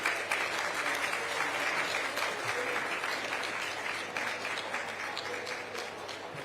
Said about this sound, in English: Another round of applause for our speakers on stage.